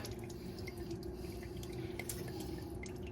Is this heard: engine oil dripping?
yes